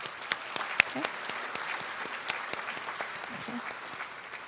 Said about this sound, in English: Please give them a big round of applause at this time.